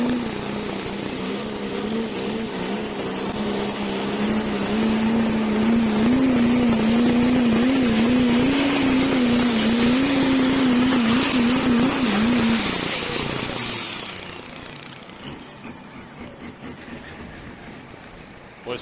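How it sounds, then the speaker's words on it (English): A super stock diesel pulling truck's engine holds at high revs with a loud, steady roar and whining drivetrain as the tires break loose, then the noise winds down toward the end, heard alone. "Every time he opened it up, the RPMs went way up, but the tires broke loose and did not get the bite that he wanted."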